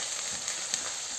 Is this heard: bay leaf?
yes